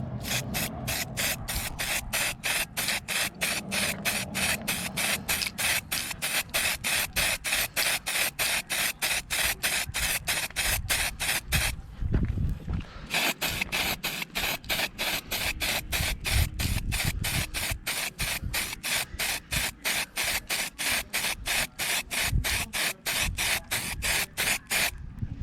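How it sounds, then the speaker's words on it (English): Red spray paint applied to the tow hooks of a 1999 Lincoln Navigator: rapid, evenly spaced aerosol bursts in a continuous rhythm, close and fairly loud, with one short gap midway. "we're gonna paint these tow hooks red"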